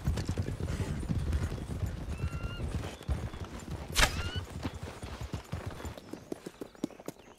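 Horses in Red Dead Online clip-clopping at a walk, a continuous rhythmic patter of hooves with a brief whinny and snort partway through.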